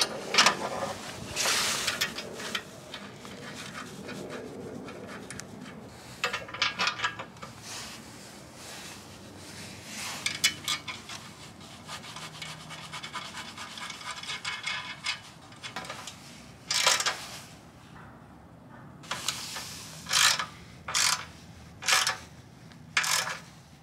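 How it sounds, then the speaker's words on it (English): A 13mm nut is tightened onto a bolt while mounting a Tuffy flip-up license plate holder on a Jeep Wrangler, giving a run of short metallic clicks and ratcheting taps, with sharper bursts near the end. "put the nut on the back and tighten that down"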